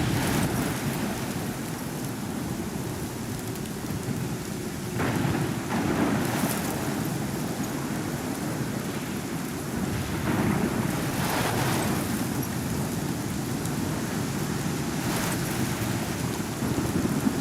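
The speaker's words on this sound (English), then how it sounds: "This is my storm" A thunderstorm in the game Life is Strange: steady heavy rain with several rumbles of thunder rolling through, no voices.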